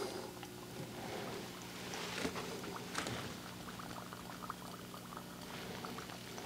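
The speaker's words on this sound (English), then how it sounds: "You can hear that bubbling." Soft, continuous bubbling and fizzing of finely ground varnish conk mushroom soaking in a tincture jar, close by, steady with faint crackles, no voices.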